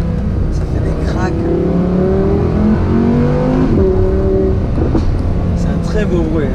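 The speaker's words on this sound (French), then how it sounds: "Le bruit du V10, si j'ouvre la fenêtre un petit peu, regarde ça." Audi R8 V10 Plus V10 engine rising through the gears while driving with a window cracked open, revs climbing in rising sweeps over a steady road rumble, with faint voices present.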